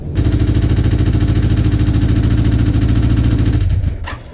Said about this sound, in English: this engine just like ticks super loud